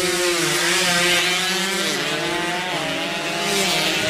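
A two-stroke 150cc drag bike screams loudly at close range in a street drag time trial, its high revving engine holding a raw buzzing note with a quick dip and climb as it shifts.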